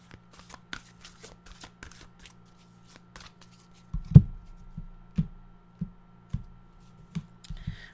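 Esther and Jerry Hicks well-being cards are shuffled by hand, giving a run of light papery riffles and taps that turn into sharper, louder card slaps in the second half. The sound is close and isolated, with no talking.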